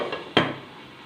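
A lid is set on a pan of beans potato masala, making a single close clack of metal with a short ringing decay over faint kitchen background.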